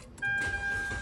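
Mitsubishi Xpander engine push-started with the brake held: a short electric whine, then the engine catches into a steady idle hum with a thin high tone, close up, with no talk over it.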